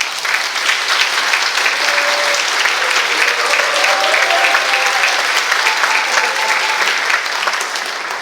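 Dense, loud applause from a ceremony audience gathered for a social welfare officials' anniversary event, a continuous close wash of clapping hands that holds steady throughout, with faint voices mixed in underneath.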